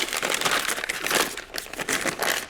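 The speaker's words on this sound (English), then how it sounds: "So I know this isn't very glamorous, but the best way to marinate meat is in a plastic bag." Plastic bag crinkling steadily as three pork loins, about a pound each, are marinated inside it, a dense, continuous rustle close up with no talking.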